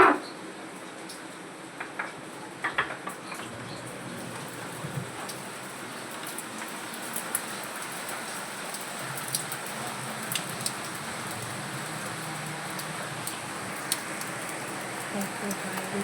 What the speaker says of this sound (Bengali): দেখছো বাইরে কেমন বৃষ্টি পড়ছে।